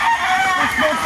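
A rooster crows briefly amid a noisy outdoor rural background, with other birds and faint voices mixed in.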